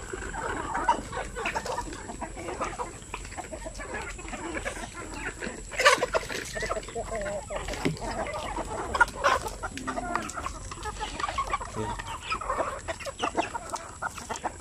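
Black sampin chickens, glossy-feathered birds on a farm, clucking repeatedly in a flock, several calls overlapping at close range over steady background noise, with no talk.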